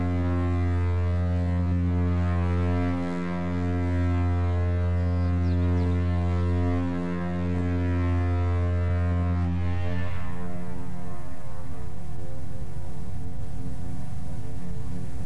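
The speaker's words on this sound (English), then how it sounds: "Now, that foghorn wasn't acceptable. It didn't have a grunt on the end." A loud, steady foghorn blast at Albert Head with a deep buzzing tone, sounding in long sustained pulses, then shifting to a rougher, grating drone near the end.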